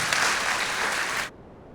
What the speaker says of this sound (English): A big round of applause again for our panelists.